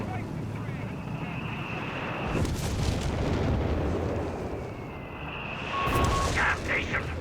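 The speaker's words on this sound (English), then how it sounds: "German positions here being once more exposed to heavy artillery out of the Allies" Heavy artillery in Company of Heroes 3 booms and rumbles in bursts, with whistling shells and blasts over a continuous low roar of battle, while a commentator talks over it.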